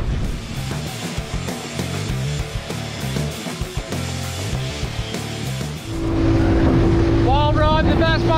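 An outboard-driven bass boat motors through wind-blown swells on open sea, a steady droning engine with thumping hull and rushing wind noise, rising louder and rougher toward the end as a voice speaks over it.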